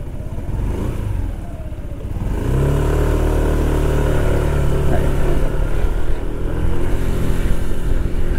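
A Yamaha Majesty S sport scooter engine hums steadily, rising into a stronger, sustained drone as it rides slowly through city streets during a test ride.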